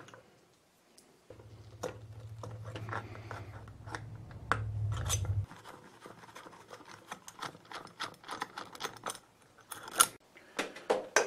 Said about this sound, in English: I reach in there and I can cut the wires off.